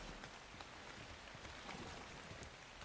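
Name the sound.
rain outside in the video game ARK: Survival Evolved, Valguero map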